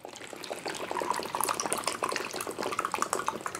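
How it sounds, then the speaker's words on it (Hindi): About 200 ml of water pours steadily over three ice cubes in a measuring cup or shaker, a continuous close splashing trickle with no talking. "और इसके बाद जाएगा 200 ml के आसपास हमारा पानी।"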